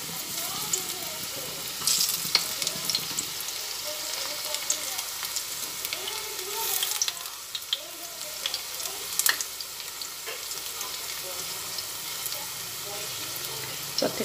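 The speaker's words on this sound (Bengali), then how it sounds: "পেঁয়াজের পকোড়াগুলো লাল লাল করে সব ভেজে নিলাম" Onion pakoras sizzle and crackle as they fry in hot oil, a steady close bubbling hiss with occasional sharper pops, faint and continuous throughout.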